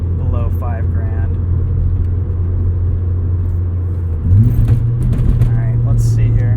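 A 1990 Mazda RX-7 with a rotary engine revving while driving, a steady droning hum from inside the cabin that rises in pitch partway through, with people talking over it.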